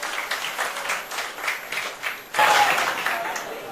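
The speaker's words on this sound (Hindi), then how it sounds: "एक बार फिर से एक बार जोरदार तालियां कन्हैया और शुभ्रस्था के लिए बजा दीजिए" Audience applause for Kanhaiya Kumar and Shubhrastha at a televised discussion event, a steady wash of clapping throughout that swells louder partway through.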